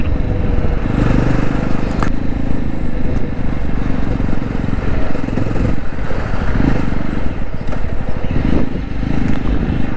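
A new 2024 Jawa 350 motorcycle under way, its engine droning steadily with gear-change dips amid wind rush and road rumble, heard from the rider's position.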